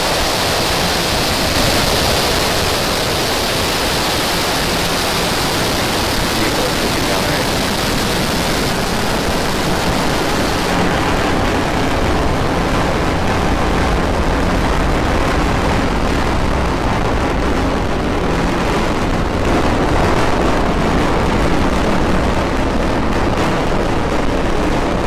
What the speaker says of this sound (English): Ignition, liftoff of Falcon 9 and Starlink Ocho.